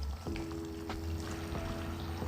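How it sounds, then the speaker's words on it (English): Water poured into a hot pan around the edges of frying eggs seasoned with pepper and salt, a soft steady pour over a low sizzle with a few brief splashes, no talking. "Then around the edges, water."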